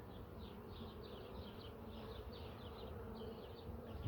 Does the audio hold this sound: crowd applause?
no